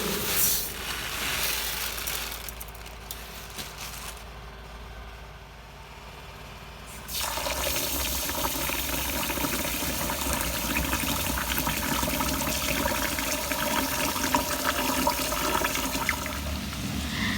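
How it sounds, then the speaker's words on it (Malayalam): Rose kaima rice being washed in water in a home kitchen for chicken biryani, with running and splashing water throughout, quieter for a stretch in the middle before a louder steady gush resumes. "നമുക്ക് അരി കഴുകി വെള്ളത്തിൽ ഇട്ട് വയ്ക്കാം."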